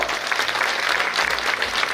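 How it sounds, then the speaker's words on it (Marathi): Large crowd at a public political rally in Ravalgaon applauding, dense continuous clapping that stays loud and even throughout, with no talk over it. "आपण टाळ्या वाजून आभार व्यक्त करूया"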